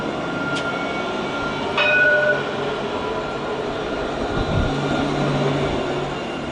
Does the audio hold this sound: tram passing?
yes